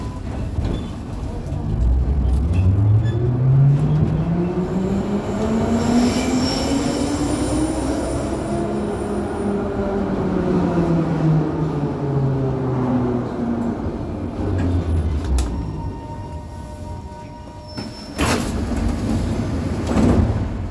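A train runs and pulls into a terminal station with a loud, continuous rumble close by. High wheel squeals rise and fall throughout, and sharp clunks and bangs come near the end as it arrives.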